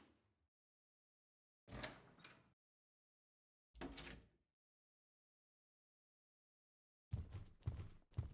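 Dull thuds of a locked door being tried in an adventure video game, three separate bursts of rattling knocks with silence between them, the last cluster quicker and sharper.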